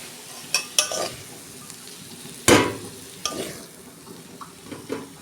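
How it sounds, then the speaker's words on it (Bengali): Greens fry in a pan with a soft sizzle under occasional sharp scrapes and knocks of a spatula stirring, close by and fairly quiet, with no talking. "আর 2 মিনিট আমি ভেজে নেব"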